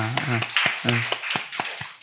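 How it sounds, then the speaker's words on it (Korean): An audience at a church sermon gives a brief scattering of claps, several sharp hits mixed with voices talking and calling out close by. "우리 박수 한번 할까요?"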